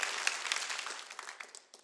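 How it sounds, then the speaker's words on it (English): Brief burst of audience clapping at a stand-up comedy show, dense and steady with scattered individual claps, fading slightly toward the end. "Cheap applause for me."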